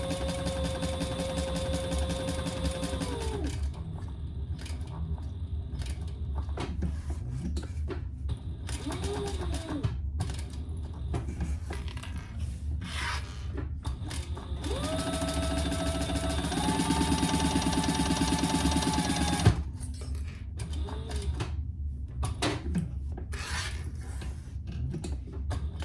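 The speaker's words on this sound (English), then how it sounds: "We're gonna sew that together, and then we'll turn" A sewing machine stitches waxed canvas for a small zippered pouch, running in steady humming bursts with pauses and faint handling noises between runs.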